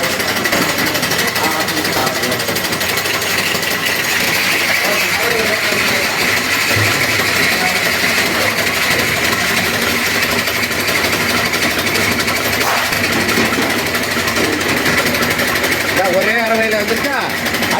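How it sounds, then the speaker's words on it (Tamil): A flour mill grinding sun-dried drumstick pieces into powder, a steady loud mechanical drone with constant rattling vibration that runs without pause throughout. "மாவு அரைக்கிற மிஷின்லேயே அரைச்சி பவுடர் ஆக்கி தந்துடுவாங்க"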